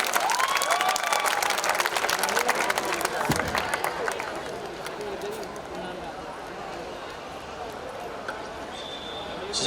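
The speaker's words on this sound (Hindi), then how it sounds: "इतना जोरदार तालियां प्लीज." Applause from an audience at a film trailer launch as the director is welcomed on stage, dense clapping strongest in the first few seconds and thinning out, with crowd noise and someone talking over it.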